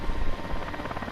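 Helicopter rotors in Call of Duty: Modern Warfare II drone steadily with a heavy low-frequency rumble and faint pulsing chop, loud and continuous throughout, with no voices.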